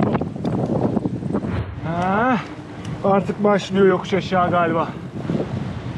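Rushing wind noise buffets the microphone on a bicycle heading downhill into a strong headwind on a coastal road, loud and constant under someone speaking.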